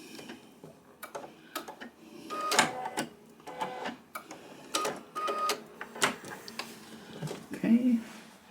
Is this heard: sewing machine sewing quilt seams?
yes